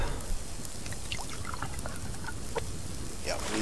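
Water pours steadily in the survival game Subsistence, a continuous splashing trickle with small drips and bubbles throughout.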